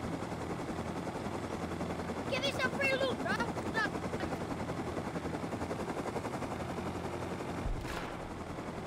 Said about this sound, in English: I shot him twice, he's dead